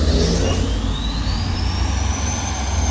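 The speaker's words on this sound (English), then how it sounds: "I hear a turbo diesel pulling up." Dodge pickup with a Cummins turbo diesel engine pulling up, a loud low rumble with a rising turbo whistle that climbs steadily over the three seconds.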